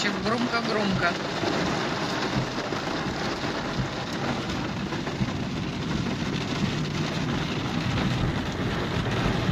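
A heavy summer downpour in Ryazan pours down as a dense, steady roar of rain that never lets up, loud and close, with a faint voice murmuring underneath.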